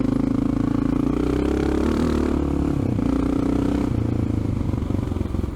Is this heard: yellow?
no